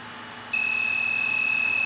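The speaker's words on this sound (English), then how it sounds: "The alarm is activated, has activated." A fire alarm from the Roblox video game kicks in after a brief low hum, then holds a loud, steady, piercing electronic tone that continues without a break.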